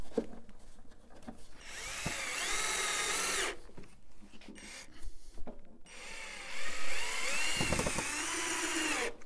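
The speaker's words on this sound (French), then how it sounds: "Glissez les deux parties l'une contre l'autre et vissez dans les trous de vis déjà prévus." A power drill drives screws into pre-drilled holes in wooden parts, coming in several close, loud bursts of whirring with short pauses between them.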